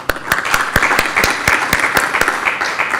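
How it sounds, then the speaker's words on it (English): A round of audience applause at a Moroccan-Portuguese conference on artificial intelligence, steady close-up hand claps in a brisk uneven rhythm, loud and sustained without talk. "have another round of applause to the Portuguese delegation present here"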